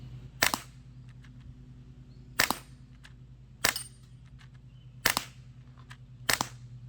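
A Sig Sauer M17 CO2 pellet pistol fires five sharp, spaced shots at a target, each a crisp crack with a short smack, heard close over a low steady hum.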